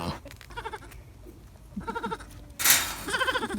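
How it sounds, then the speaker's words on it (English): A baby goat on a farm bleats several times in short wavering cries, close and clear, with a soft voice murmuring between them. "There's a little baby goat."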